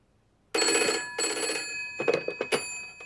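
A ringing telephone with a bright metallic bell sounds in two long bursts, then breaks into shorter clattering rings, loud and close in an otherwise quiet room.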